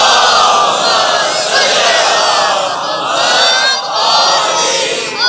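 A large crowd at a Shia religious gathering for the birth of Imam Ali loudly recites salawat in unison, a dense, sustained roar of many voices lasting several seconds with slight swells and dips.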